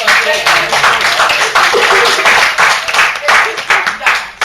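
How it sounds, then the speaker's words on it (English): An audience at a Watch Night Freedom Eve gathering breaks into applause, loud, uneven clapping with some voices and laughter running through it for several seconds. "Give a round of applause."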